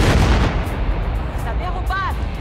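Heavy booming blasts of explosives detonating in the video game Battlefield Hardline, with rumbling low end, followed by a few short whistling, chirping tones, all dense and loud throughout.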